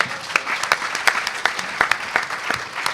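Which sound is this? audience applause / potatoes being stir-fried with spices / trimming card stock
audience applause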